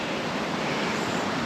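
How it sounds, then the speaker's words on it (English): An old gas tank is filled with water, a loud, steady, close rushing hiss of flowing water that holds constant throughout with no talk. "So we're going to fill this tank up with water."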